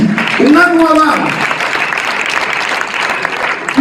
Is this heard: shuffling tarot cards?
no